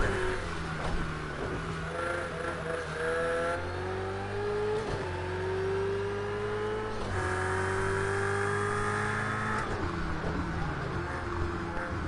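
Race cars in Project CARS 2, including McLarens and a Ferrari, a steady loud engine roar rising through the gears with shift breaks as another car is passed, with no talk.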